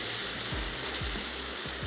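Spices with coriander powder fry in a pan, a dense continuous sizzle with a few soft scraping stirs, close and steady without any talk.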